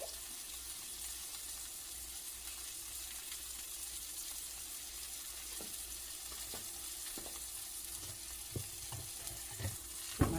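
A chuck roast cooks in a pan with a steady, hissing sizzle that holds throughout, and a few soft clicks and scrapes of stirring grow more frequent near the end, close by with no voices.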